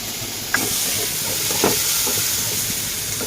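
Steady hiss and sizzle of pointed gourd bharta cooking in a pan as coriander leaves are stirred in, with a couple of soft clanks from the stirring; continuous and fairly close, with no talking.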